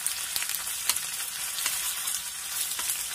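Ginger-garlic paste and masala for a chicken curry sizzle steadily in a hot pan, with a dense hiss and occasional soft stirring clicks. The sound is close and continuous, with no talk.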